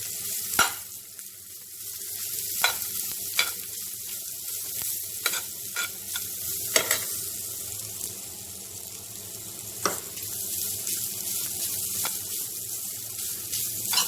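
Grated coconut filling for Malabar unnakkaya stirred in a pan, a steady soft sizzle under repeated sharp scrapes and clacks of the spoon against the metal, close and alone without talk.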